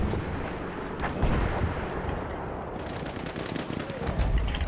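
Machine gun fire rattles continuously through a Battlefield 1 battle, dense and loud, with blasts and combat noise layered underneath and voices calling out over the gunfire.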